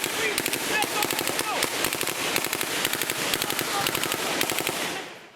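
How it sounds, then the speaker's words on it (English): Small arms gunfire during a Taliban ambush in Afghanistan's Korangal Valley: sustained bursts of rapid automatic shots, loud and close, running for several seconds before cutting off abruptly. "the Taliban begins an ambush with small arms fire and rocket-propelled grenades"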